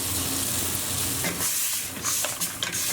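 Coconut cream and sugar being stirred into Thai-style mussels in a hot pot, a close, steady sizzle and bubbling hiss with a few scraping stirring strokes, no talking.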